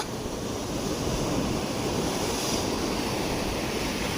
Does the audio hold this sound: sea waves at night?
yes